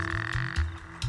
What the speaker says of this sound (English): only males have the expandable throat sacs, which allow them to amplify their calls